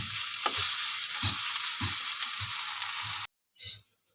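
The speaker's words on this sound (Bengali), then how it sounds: "চলো এবার এটাকে ভাজা ভাজা করে নেব।" Leafy greens with fish are stir-fried in a pan, a constant sizzle punctuated by regular spatula strokes roughly every half second, then a sudden cut to near silence before one last short scrape.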